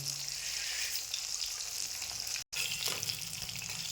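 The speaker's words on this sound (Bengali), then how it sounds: "মাছটা একটু কম ভাজা হবে হালকা করে মাছটা ভাজবেন" Fish frying lightly in hot oil, a soft, steady sizzle heard close up and fairly quiet, broken by a brief silent gap midway, with no voices.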